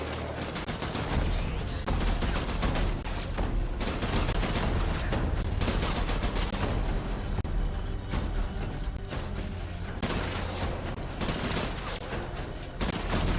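Dense weapon gunfire in the Death Stranding video game: rapid, loud bursts of repeated shots that crackle in clusters with brief gaps, close up and continuing throughout.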